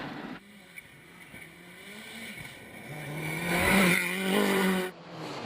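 Rally car at speed on a gravel stage of the Goldrush Rally Coromandel in New Zealand, its engine note droning steadily then swelling louder toward the end as it accelerates, with tyre and gravel noise beneath.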